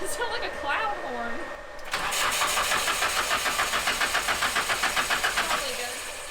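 The SR20-swapped Miata's engine cranks over without firing: a rhythmic, pulsing starter churn that begins about two seconds in and continues steadily, with people talking faintly beforehand.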